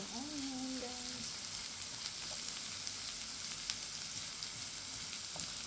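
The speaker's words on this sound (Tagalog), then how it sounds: "Lutuin lang natin ang ating onion, guys." Onion fries steadily in a pan with a continuous hiss and fine crackle. A brief tonal sweep is heard near the start.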